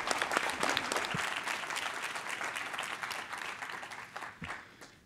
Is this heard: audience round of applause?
yes